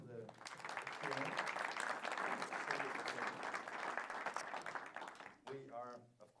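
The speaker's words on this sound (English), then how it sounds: "A warm applause also for the Q&A." Warm audience applause after a conference Q&A session, a steady dense clapping from a crowd lasting several seconds before tapering off, with a voice speaking over its end.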